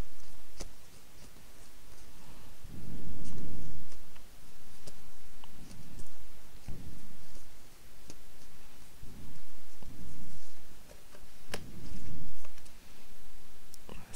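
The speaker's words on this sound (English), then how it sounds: "So if we can have some sort of shuffling sounds." Tarot cards are shuffled close up in repeated bursts of riffling and flicking, with small sharp clicks scattered between the bursts.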